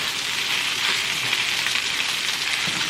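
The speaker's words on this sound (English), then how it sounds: "my heat is on high so that my rice can begin to fry" Rice fries in a hot pan on high heat, giving a constant dense sizzle that stays steady and close throughout, with no talking.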